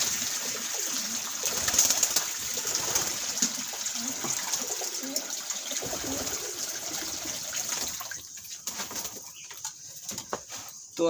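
Soft cooing and light fluttering of caged breeding pigeons about to bathe in water, over a faint background hum, with occasional splashes of water, fairly quiet throughout.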